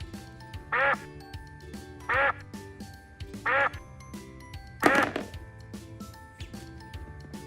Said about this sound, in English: This is a green duck.